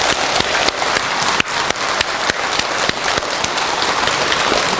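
A crowd at an inauguration ceremony for a Jogyesa Buddhist temple lay association president claps in sustained, dense applause with sharp individual claps standing out, loud and close throughout, with no talk.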